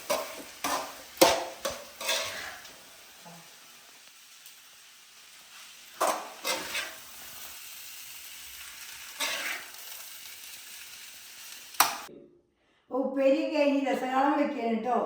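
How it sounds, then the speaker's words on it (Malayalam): Vegetable stir-fry (upperi) of plantain peel and green gram is stirred in a pan, making a series of scraping, clattering strokes with quiet gaps between them, followed by a voice at the end. "നല്ലൊന്ന് ഇളക്കുക നല്ല ഉപ്പേരി റെഡിയായി കായത്തോലും മമ്പയറും"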